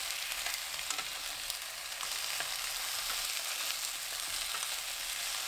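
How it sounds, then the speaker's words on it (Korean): Potato pieces stir-frying in cooking oil on high heat, an even, bright sizzle held steady throughout with faint occasional ticks, close up and without voices. "팬이 예열되면 식용유 2큰술, 감자 넣고 센 불로 2분 볶습니다."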